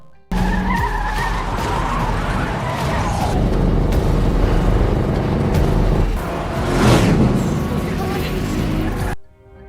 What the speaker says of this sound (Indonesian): Terjadilah kejar-kejaran antara Rachel dan Tom.